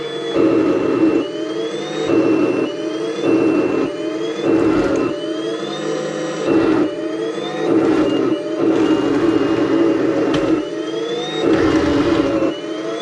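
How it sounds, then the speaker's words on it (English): A toy M1-A2 Abrams tank gives a whining, jet-like mechanical hum that rises and falls in repeated surges, loud and close, with rising pitch sweeps as the motor speeds up. "you hear that jet engine sound?"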